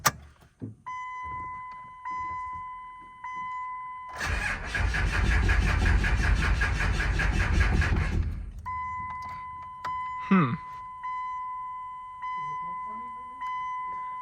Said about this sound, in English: Here, it's running. Let it run.